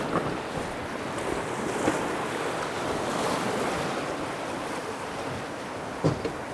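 North Platte River rapids rush past a drifting fishing boat in a steady, loud wash of turbulent water with wind noise and an occasional knock against the hull.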